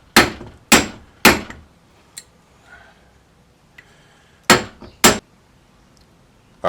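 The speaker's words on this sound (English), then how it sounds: "just a light tap." Light hammer taps on parts during a Mopar A-523 transmission rebuild: sharp, close metallic knocks, three in quick succession, a pause with a couple of faint ticks, then two more taps.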